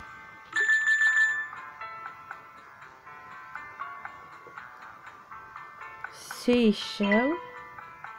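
A telephone rings in the Hidden Hotel hidden object game, a short burst of bright electronic ringing tones among game chimes, followed by a cartoonish voice, with a person talking.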